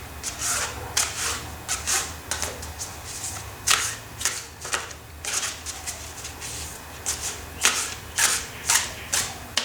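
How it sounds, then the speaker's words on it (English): Tarot cards are shuffled in repeated quick bursts, a crisp riffling and rustling close by, pausing briefly between rounds. "now I'm just going to close my eyes and shuffle the card"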